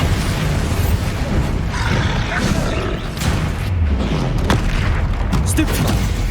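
Bombarda spell blasts in Hogwarts Legacy combat, deep rumbling booms and crackling bursts layered over a continuous roar of battle effects, loud and dense throughout, with spell shouts mixed in.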